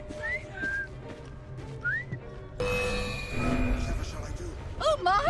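A character whistling in Assassin's Creed Syndicate, a few short rising and sliding whistled notes near the start, then background game sound and more whistled chirps at the end, with no speech over them.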